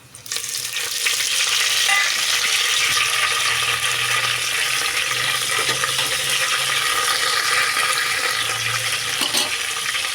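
Mint and onion frying in hot oil for a chicken biryani made with ration rice, a loud, steady close sizzle that runs continuously throughout with faint stirring underneath.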